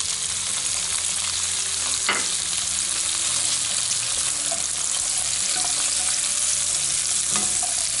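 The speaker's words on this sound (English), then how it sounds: "at this point, I'm adding the asparagus with the garlic" Asparagus and garlic frying in bacon grease, with a steady loud sizzle throughout and a few brief stirring clinks.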